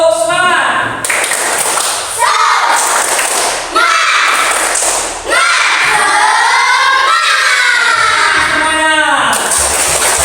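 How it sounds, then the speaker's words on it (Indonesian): A group of children and their teacher do a rhythmic spirit clap in a classroom, loud patterned claps and thumps mixed with shouting voices and talk throughout. "Bapak ingin mengajak kalian tepuk semangat"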